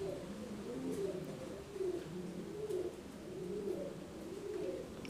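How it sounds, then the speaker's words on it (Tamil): Saxon Shield fancy pigeons, a pair with two squabs, give a steady series of low, rolling coos close by, repeating in soft rhythmic waves with faint background noise. "இது வந்து சாக்சன் ஷீல்டுன்னு ஒரு இனப்புறா, ரெண்டு குஞ்சு இருக்குது"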